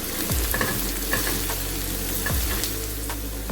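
Beef cooks in a pan with suya spice and crumbled beef seasoning cubes. It is stirred over a loud, continuous sizzle, with two heavy scraping strokes of the spoon near the start and end. No one talks.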